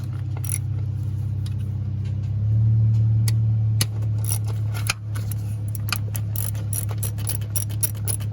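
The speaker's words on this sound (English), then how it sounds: "So we're going to use this 1/4" drive ratchet here." A 1/4-inch drive ratchet works an ignition coil bolt loose on a Nissan Titan, Armada or Infiniti QX56 V8, giving rapid close clicking pawl runs with a steady low hum underneath and no talking.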